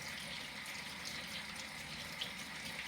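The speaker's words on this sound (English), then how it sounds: "So I've got to switch the tap on." Water runs from a household tap in a steady, continuous gush, close and unbroken for a few seconds, with no talking.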